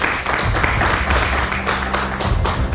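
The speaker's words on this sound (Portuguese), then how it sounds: "Uma salva de palmas aos nossos convidados." A studio audience applauds the guests on a Portuguese-language talk programme, with dense, steady clapping at full volume throughout.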